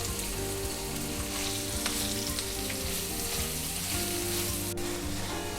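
Sliced onion sautés with a little salt in a pan for a chicken korma, giving a steady, soft sizzle and crackle with faint occasional stirring scrapes, heard alone without talk.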